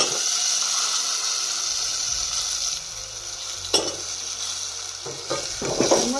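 Green beans frying in a spiced vegetable curry, a steady hissing sizzle close by, joined later by spatula scrapes and clinks against the pan as the mixture is stirred, with no talking.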